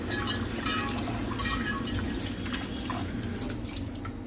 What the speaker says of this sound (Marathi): आता हे भांडं आपण काय करायचं भांडं आहे ना हे गार झालं आहे आता मी याला स्वच्छ असं धुवून घेणार आहे